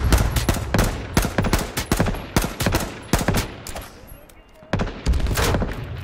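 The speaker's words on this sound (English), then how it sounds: "The other team is here. They're shooting at me." Rapid automatic gunfire from other players in the battle royale game H1Z1, dense bursts of sharp close shots with a brief lull before firing resumes.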